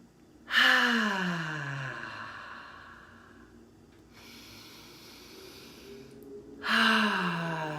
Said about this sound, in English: Just taking some nice deep cleansing breaths.